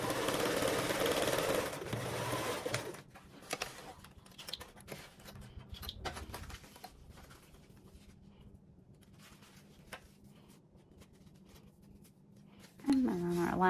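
A sewing machine top stitches a layer of a Pandora Allure bag, its steady mechanical run sitting low and continuous beneath a voice that talks over most of the stretch, with a louder burst near the end.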